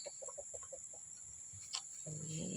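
Chickens clucking in a farm's morning poultry area: a quick series of short, close clucks at the start, then a denser, busier flock sound at moderate loudness.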